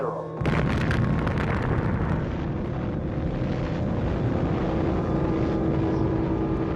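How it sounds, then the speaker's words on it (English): A huge explosion from the first atomic bomb detonation, a device about 5 feet across with a yield of about 20,000 tons of TNT, heard as a sudden blast followed by a sustained, dense roar that rumbles on steadily without talk. "the first atomic bomb was detonated."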